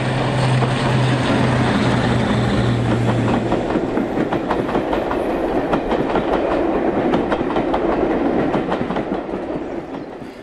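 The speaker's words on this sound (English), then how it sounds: "we see D832 Onslaught as she passes Kinchley Lane with a train for Leicester" A Class 52 diesel-hydraulic locomotive, D832 Onslaught, with Maybach engines, roars past hauling a train, its engine drone giving way to a long, steady clatter of wheels over rail joints that fades at the end.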